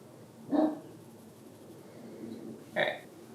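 Dogs barking indoors during a painting session, two short separate bark bursts at moderate distance over a quiet room background, with no talking.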